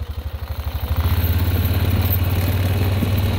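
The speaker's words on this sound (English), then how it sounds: "I'm on a four-wheeler. You're going to get a little motion." A four-wheeler ATV engine runs close by at a cattle drive, its pulsing throb rising from a quick revving chug to a steady, loud, rumbling drone with a rattling edge.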